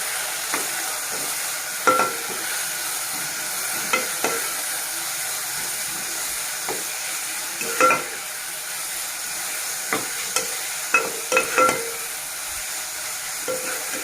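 Soaked urad dal is stirred and fried in oil with salt for a curry. A steady, close sizzle runs throughout, broken by repeated scraping and clinking strokes of a spoon against the pan.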